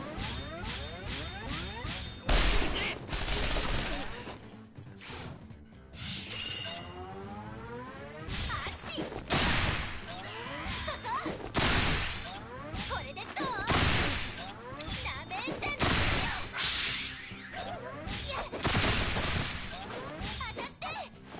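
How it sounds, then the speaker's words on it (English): Gunfire from the Resonance of Fate video game, a series of loud, sharp shots bursting at irregular intervals amid clanging and crashing effects, with game music and voices underneath. "let's shoot him."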